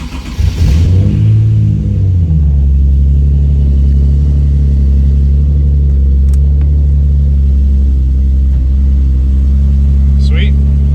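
A Nissan 370Z engine, just fitted with new injectors, cranks and catches, then settles into a loud, steady low idle rumble with a brief rev, heard close up in a garage.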